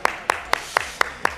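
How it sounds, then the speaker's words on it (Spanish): Six sharp, evenly spaced claps come in quick succession, crisp and fairly close. They sound like a single pair of hands, or a small audience, clapping briefly at a podcast recording. "Un aplauso para Esther."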